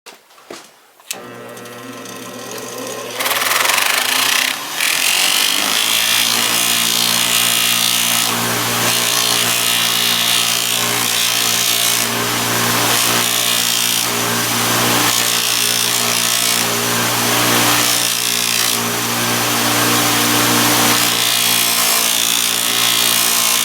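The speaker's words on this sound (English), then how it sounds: "We're going to take it over here to the buffing wheel" A buffing wheel polishes a finished coin ring: the motor spins up over a few seconds, then holds a loud, steady whirring whine for about twenty seconds.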